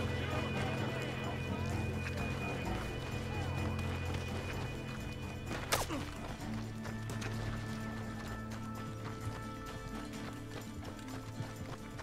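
In the Red Dead Redemption II video game, a horse gallops with steady, rapid clip-clopping hooves over a continuous rumbling game soundscape, and there is one sharp crack midway.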